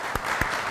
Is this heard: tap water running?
no